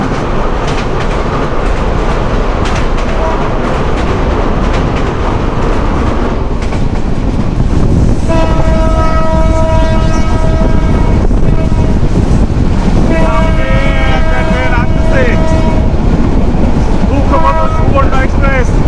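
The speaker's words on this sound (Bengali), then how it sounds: "সুবর্ণ এক্সপ্রেস 3000 সিরিজ দিয়ে আসতেছে।" A Subarna Express intercity train of the 3000 series on the Chittagong–Dhaka line passes close by beside a highway, a steady loud rumble with two long, loud multi-tone horn blasts over wind noise.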